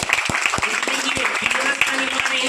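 Audience at a company meet-up in a mall clapping, sharp individual claps over a dense applause bed, with a voice and some musical tones running underneath.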